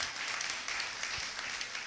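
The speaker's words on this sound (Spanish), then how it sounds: "den el aplauso al Señor" A church congregation applauds in a sustained, fairly even wash of clapping that sounds somewhat distant and soft.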